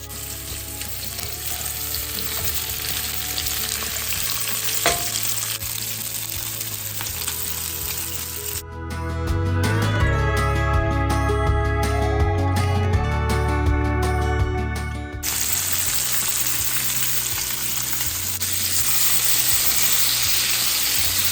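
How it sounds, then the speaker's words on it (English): Vegetables sizzle loudly in a cast iron skillet, a dense continuous crackle close up, with a brighter, harsher stretch in the middle before settling back to a steady fry. "my cast iron skillet, and I find that that really grills the vegetables a lot better than just a standard skillet does"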